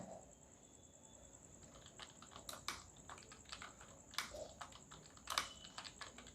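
Computer keyboard typing while an Excel sheet is renamed: quiet, irregular clicks and taps, with a few sharper key strikes and backspace presses over a faint high electronic whine, no voices.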